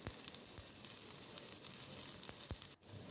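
Tamarind juice is added to a pot of simmering squid soup amid a constant close sizzle and bubbling, with a few sharper splashes and pops scattered through it.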